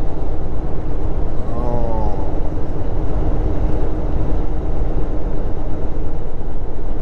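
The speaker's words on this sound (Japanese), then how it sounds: "電車が横通って" A freight train runs alongside a mountain road in summer Oregon and Washington, heard from a moving long-haul truck cab as a loud, continuous rumble with road noise, steady throughout.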